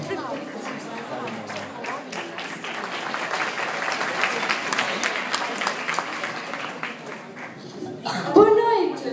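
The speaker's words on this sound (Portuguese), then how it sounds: "uma banda de aplausos, assobios e gargalhadas para Cesário Mourão e Andréa Perdiza." Audience applause at a Portuguese awards show, dense broadband clapping with a rowdy crowd feel sustained for about eight seconds, then a brief louder burst near the end where a voice cuts in.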